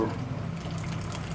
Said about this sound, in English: now we're gonna add the hot water, right?